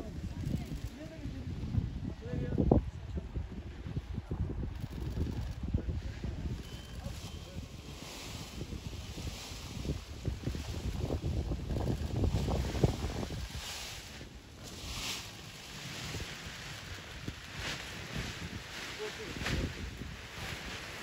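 Strong wind on a hilltop during a paragliding competition buffets the microphone in gusty, low rumbling waves throughout, with indistinct voices faintly underneath.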